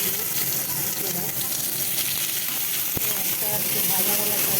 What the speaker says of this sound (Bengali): পেঁয়াজটা একটু ভাজা ভাজা করবো।